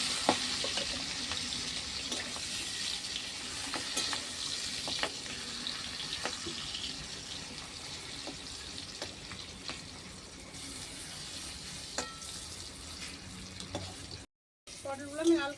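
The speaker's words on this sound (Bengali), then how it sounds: "পটলগুলো আমি লাল করে ভেজে নেবো" Pointed gourd (potol) pieces fry in a pan with garlic and green chillies, a steady hissing sizzle that runs continuously and fairly close, with occasional clicks of stirring and a brief cut near the end.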